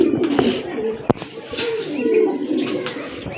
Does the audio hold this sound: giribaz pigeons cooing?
yes